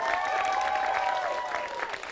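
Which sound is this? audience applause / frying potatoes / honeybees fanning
audience applause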